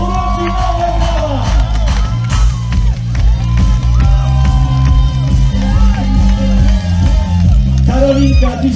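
A loud crowd cheers, whoops and shouts at a triathlon relay in Gdynia to celebrate an athlete named Karolina. A voice talks over the steady, close roar throughout.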